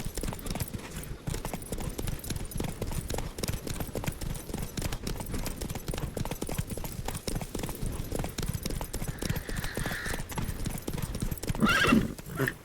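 Roach the horse galloping in The Witcher 3: a steady, rapid clip-clop of hooves throughout, with a neigh near the end and faint voices in the background.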